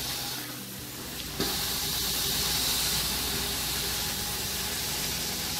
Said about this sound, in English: I don't know, man, that's a lot of steam escaping that head.